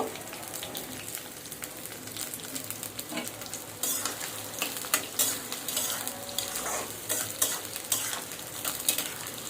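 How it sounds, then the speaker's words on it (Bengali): Chopped onions frying in mustard oil for garlic pickle, sizzling while being stirred with repeated spoon scrapes and taps that grow busier and louder midway; close and continuous, with no talking. "পেঁয়াজটা যতক্ষণ বাদামি না হবে ততক্ষণ এই সরিষার তেলে ভাজবো।"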